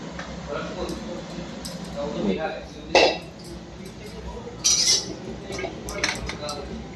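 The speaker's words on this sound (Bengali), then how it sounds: "এখন থালায় লাগিয়ে নেব। ঢেলে নিচ্ছি থালায়।" Potato-stuffed capsicums tipped out of a cooking pan onto a plate, with a few sharp metallic clinks and scrapes of cookware against the dish over a low kitchen background.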